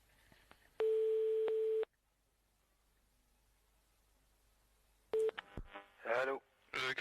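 Telephone call tones as one person rings another: a long steady ringback tone, silence, then a brief repeat, followed by a voice answering at the end.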